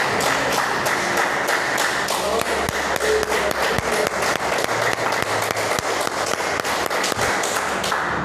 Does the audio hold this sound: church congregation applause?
yes